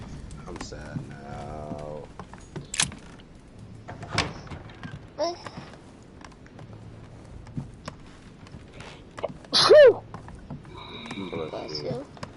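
One sharp, loud sneeze bursts out indoors amid quiet chatter and small knocks while someone plays a video game.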